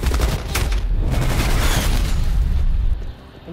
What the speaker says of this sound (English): Net call, incoming artillery.